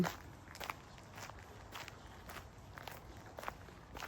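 Footsteps on an evening walk in Sweden, a steady, close run of steps with light crunching and rustle underfoot, heard alone without talking.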